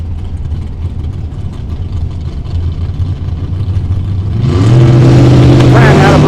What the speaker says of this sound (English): We got another great launch for both cars